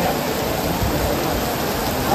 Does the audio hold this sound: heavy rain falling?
yes